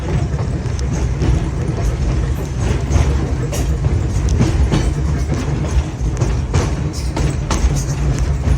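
Vintage Red Car electric rail car rolling along a railway museum line, heard from inside: a steady low rumble and wheel noise with repeated clicks and clacks of the track joints, continuous and close throughout.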